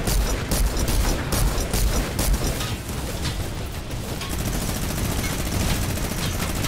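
Rapid bursts of airplane machine-gun fire in Fortnite rattle continuously with scattered booms, dense and busy like an aerial battle.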